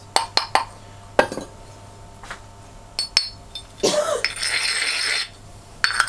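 Small ceramic dishes from a kiln clink sharply several times as they are handled, followed by a longer rough scraping rustle, then more clinks, with a low hum underneath.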